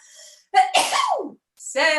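A single loud, close sneeze bursts out inside a synagogue during a live-streamed Hebrew and Aramaic prayer service, followed by a short pause and then a voice speaking.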